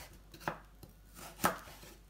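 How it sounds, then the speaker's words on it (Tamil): A knife chops through a cucumber on a cutting board in a home kitchen, with a few sharp, separate cuts spaced out over a quiet background. "அதே மாதிரி நான் வந்து குக்கும்பரையும் வந்து இப்போ கட் பண்ண போகிறேன்."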